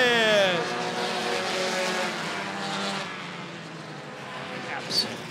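Race cars roar and whine past at a green-flag restart on an oval circuit, with the engine pitch sliding as they pass and an announcer talking over it.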